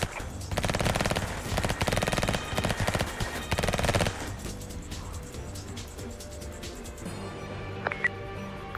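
Sustained rapid gunfire in an emergency-response video game while a unit is under fire, loud dense bursts for several seconds that then drop to quieter scattered game sounds.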